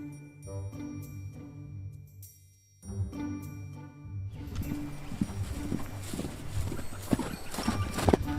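Hooves clip-clop from a hot-tempered horse named Peach during an evening barn routine, steady plodding steps at close range amid stable clatter and rustling, growing busier and louder toward the end.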